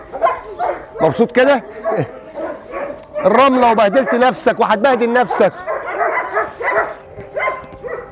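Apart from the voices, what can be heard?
eight-month-old farm dog barking and whimpering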